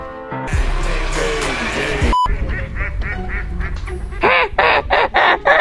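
Ducks quack in a lively cluster of nasal calls, getting louder and more rhythmic toward the end, mixed with other outdoor noise.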